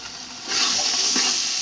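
Ginger garlic paste sizzles in a pan for chicken curry, a steady frying hiss that jumps louder after a quiet start and holds, with faint stirring scrapes and no talk.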